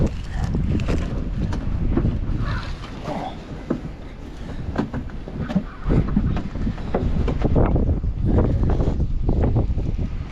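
Strong outdoor wind roars and buffets the microphone continuously, loud and close, with occasional creaks and knocks during cold trash-picking outing.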